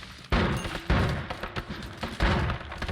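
Rapid gunfire in the video game Noita as a rat is shot down: loud bursts of shots at about 0.3, 0.9 and 2.4 seconds, each a cluster of booming blasts, with no talking.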